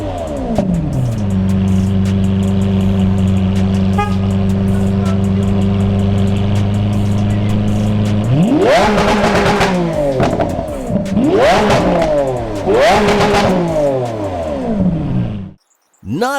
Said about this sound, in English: the driver chose to rev up his engine again afterwards anyways